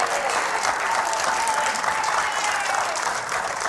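A studio audience in a PaintStick paint roller infomercial breaks into loud, sustained applause and cheering, a dense steady wash of clapping and voices that holds without a break.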